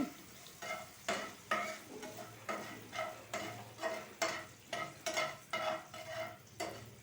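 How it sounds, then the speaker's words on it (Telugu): Tempering spices and lentils sizzle and crackle in hot oil for a pickle while a spoon stirs in rhythmic scraping strokes, close up and fairly loud. "ఇక పోపు వేగిపోయి వచ్చింది."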